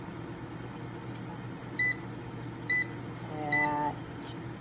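Air fryer switched on for pork chops and set, giving three short electronic beeps spaced about a second apart, then a longer tone over a steady appliance hum in a quiet kitchen.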